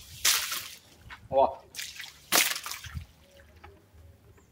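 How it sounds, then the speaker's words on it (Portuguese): Water is thrown in a few quick splashes against a freshly plastered wall, each a short wet slap with dripping after, while someone speaks briefly between throws. "vou jogar água nela"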